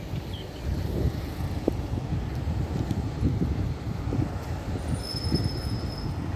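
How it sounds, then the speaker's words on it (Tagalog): Strong wind blowing outdoors along a road, a steady close rumble and buffeting against the microphone with no break, plus a faint high tone near the end. "Malakas ang hangin ngayon."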